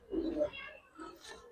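A black Chila Giribaz male pigeon gives a soft, close coo in two short bursts, quiet and alone with no talking.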